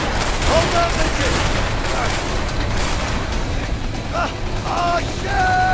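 Gunfire during a chaotic scene in the video game A Way Out, with shots and bursts buried in a loud, busy mix of shouting voices, alarms and action noise.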